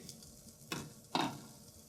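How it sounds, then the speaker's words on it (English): Liquid for a sauce hits a hot pan with fish and caramelized bits, two short sharp sizzling bursts of hiss and steam over a quiet background. "let's create the beautiful liquid that's gonna be our sauce and it's gonna create steam"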